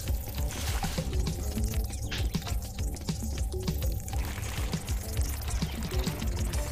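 Water is poured onto a door in a video game, a steady splashing pour that runs throughout at moderate loudness, with no talk over it.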